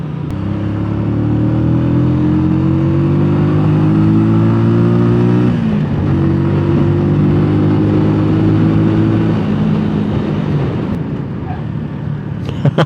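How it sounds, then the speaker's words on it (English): Benelli Motobi 200 Evo motorcycle engine and exhaust, loud and close, holding a steady hum that rises in pitch, dips sharply near the middle, then climbs again before easing off; no talking over it. "I like the sonority of the engine and the exhaust as well."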